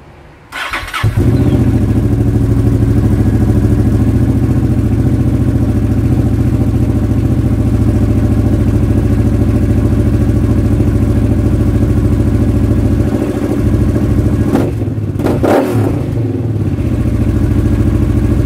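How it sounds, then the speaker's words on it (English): A Honda Transalp XL-700 motorcycle with freshly changed spark plugs cranks and fires, then settles into a steady, loud, close idle with a brief blip of revs near the end and no talk. "Just got back from a nice run on the Transalp and it's running beautifully again."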